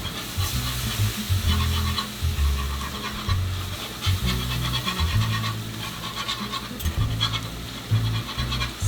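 Two cups of milk stirred into a pan for a holiday tenderloin beef roast dish, with a continuous rhythmic scraping and rubbing of the utensil against the pan, close up and fairly loud, no voices.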